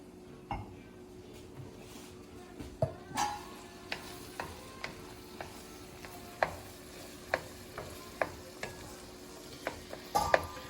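Butter melting and sizzling in a pan while shrimp and mussels are prepared, a steady low sizzle with occasional light clicks and taps of utensils against the pan.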